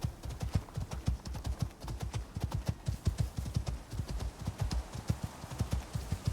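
Horse hooves in the video game Icarus, a steady run of soft clip-clop hoofbeats at a brisk walking rhythm, fairly faint and alone without talk.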